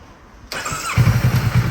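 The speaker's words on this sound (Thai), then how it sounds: "เดี๋ยวเรามาลอง สตาร์ทอีกทีนึงครับ ว่ารถจะสตาร์ทติดง่ายไหมนะครับ" A Kawasaki Versys 650 engine, left parked four years with stale fuel, cranks and catches, then settles into a steady, throbbing idle close by.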